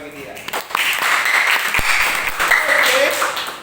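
An audience applauds at a Christian worship service for medical and nursing students, a dense, steady clatter of clapping that swells in after a brief quiet start and holds for several seconds.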